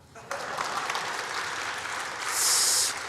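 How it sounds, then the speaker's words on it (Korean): Audience applause breaks out at a church service, a dense, steady clapping from a crowd that swells slightly louder toward the end, with a faint cheer or whoop rising above it. "박수 한번."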